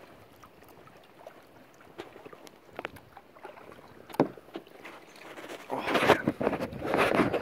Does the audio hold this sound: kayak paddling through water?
yes